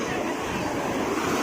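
Sea waves surging at a beach near Bhubaneswar, Odisha, a steady loud wash of surf with strong wind buffeting the microphone throughout.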